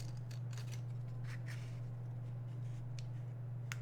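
Scissors cut out a circle in a series of faint, crisp snips spaced irregularly over a steady low electrical hum.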